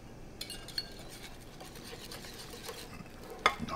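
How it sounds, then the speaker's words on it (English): Eggs being scrambled with black pepper in a pan for a zucchini flower carbonara: steady soft stirring and faint sizzle, with a sharp clink of utensil on pan near the end. "we scramble this now with the black pepper"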